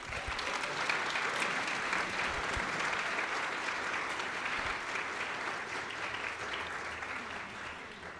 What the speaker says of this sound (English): let's have an applause for them